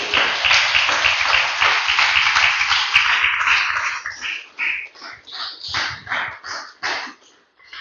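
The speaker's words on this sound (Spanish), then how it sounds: "Déselo fuerte el aplauso al Señor" A church congregation claps for the Lord after a sermon, first as a steady, fairly close wash of applause, then thinning into scattered bursts of clapping in uneven clusters that fade out.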